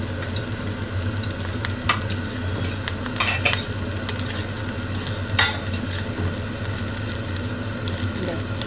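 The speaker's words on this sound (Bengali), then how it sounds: "এটাকে এবার ভালো করে মিক্স করে দেবো" Fish-oil curry with green chillies sizzles in a pan as it is stirred, with a constant loud frying hiss and a few sharp utensil knocks against the pan.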